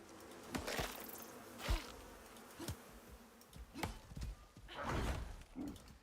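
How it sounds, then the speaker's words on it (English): Bees buzz in the survival game Icarus, a faint droning hum under intermittent dull thumps and knocks from in-game movement. "I hear bees."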